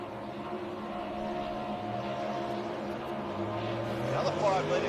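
A 5-litre racing motorboat running on the course at a St George Motorboat Club event, its steady engine drone heard from a distance under continuous commentator speech.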